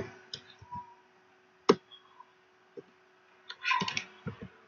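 Computer keyboard being typed on while entering HTML code, scattered sharp key clicks in short bursts and single taps, fairly quiet and close with gaps of near silence.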